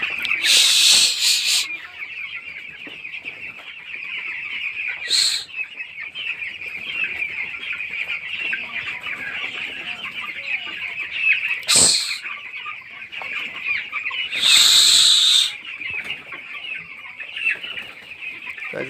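A shed of 13-day-old broiler chickens on a farm keeps up a constant close chorus of clucks and peeps, with a few louder bursts of calls standing out.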